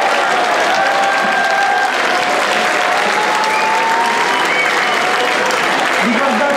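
Live concert audience applauding a blues guitarist, steady dense clapping throughout at close, loud level, with a voice speaking over it.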